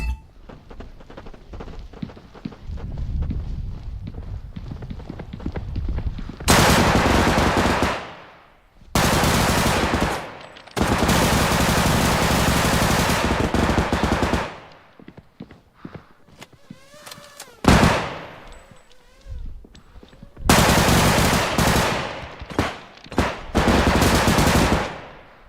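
Automatic gun in a first-person shooter video game fires in several long bursts of rapid, loud shots separated by brief pauses, with quieter footsteps and game noise between the volleys.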